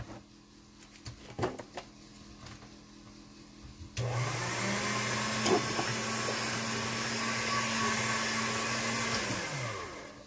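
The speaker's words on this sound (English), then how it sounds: "Okay, so I'm going to run this through my machine." Polymer clay goes through a clay machine: after a few quiet clicks and handling knocks, a steady motor hum starts abruptly and runs continuously at moderate loudness, ending with a slight downward shift in pitch; no talk.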